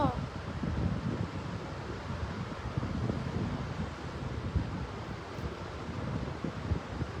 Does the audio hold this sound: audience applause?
no